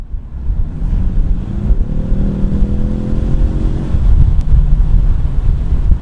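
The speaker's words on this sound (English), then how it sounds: "that's what happens when you have velocity in a car" A car accelerates at speed: a loud, steady roar with a rising engine tone in the middle, mixed with heavy wind buffeting on the microphone.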